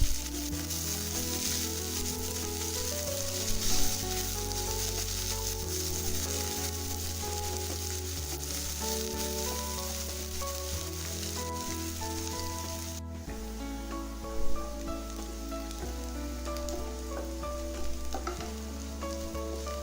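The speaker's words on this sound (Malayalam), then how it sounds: "ഉള്ളി, വെളുത്തുള്ളി, പച്ചമുളക്, കറിവേപ്പില എന്നിവ ചേർത്തിട്ട് ഇതിനൊരു ഗോൾഡൻ ബ്രൗൺ ആവുന്നത് വരെ നമുക്ക് ഇതിനെ ഒന്ന് വഴറ്റിയെടുക്കണം." Onion, garlic, green chili and curry leaves sautéing in a pan for a jackfruit and bean stir-fry, giving a continuous close sizzle and crackle with occasional stirring clatter, steady over a long stretch.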